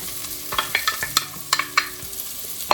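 Chopped celery and carrots sauté in a pan for white bean and kale soup, giving a soft steady sizzle broken by a series of sharp scraping clicks as the vegetables are stirred.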